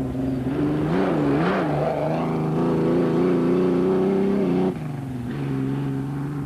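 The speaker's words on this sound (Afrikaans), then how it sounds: "Nog 'n motor met Amerikaanse koneksies is die Chevy van Theo en Eugene Coetzee" A Chevy race car's engine revs hard and steadily at close range, its droning pitch rising and wavering before dropping abruptly, then settling back into a lower sustained growl.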